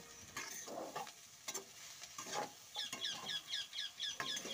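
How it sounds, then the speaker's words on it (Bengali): A spatula stirs chili and salt into drumstick flowers frying in a pan, giving soft repeated scrapes over a light sizzle, while a chicken clucks in a quick series in the background. "পরিমাণ মতন লবণ দিয়ে খুব ভালো করে খুন্তিটা দিয়ে নাড়াচাড়া করে মিশিয়ে দেব"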